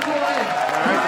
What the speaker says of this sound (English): All right, the crowd's letting the guys hear it.